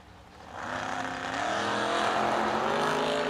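A 2010 Mustang drag race car launching off the line, engine revving up into a loud, sustained roar that swells after a brief idle and holds steady.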